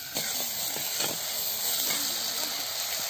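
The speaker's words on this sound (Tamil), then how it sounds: "வெங்காயம் நல்லா வதங்கிட்டு இருக்கு" Onions sauté in a pan for a quail sukka, giving a steady close hiss and sizzle with faint soft stirring knocks underneath and a quiet voice in the background.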